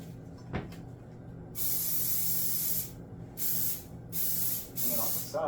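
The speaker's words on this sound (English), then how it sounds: "bring it off the sides, cooking spray," Several short bursts of aerosol cooking spray hiss onto a baking dish, each lasting about a second with brief pauses between, fairly close and loud against quiet background.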